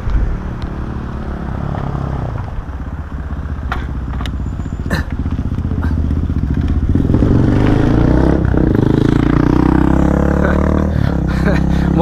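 A motorcycle passes on a road, with a steady engine drone that swells louder toward the end, heard from inside a moving vehicle amid rattling and rumble, with faint speech.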